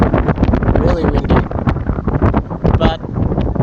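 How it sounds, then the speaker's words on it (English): Strong wind buffets a phone microphone outdoors, a loud continuous rumbling roar with gusty surges throughout, mixed with someone talking. "it's windy. It's literally blowing the phone."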